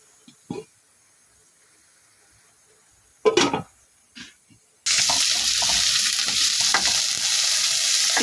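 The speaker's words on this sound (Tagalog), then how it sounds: "Special menu ng Labs yan. Adobo sa atsuete. Mixed with pork and chicken" Pork and chicken adobo with annatto frying in a pan: after a few quiet clatters, a loud steady sizzle bursts in and continues to the end.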